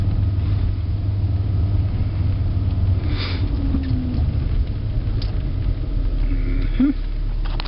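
A boat engine runs as a constant low rumble throughout, close and loud, with faint scattered sounds on top.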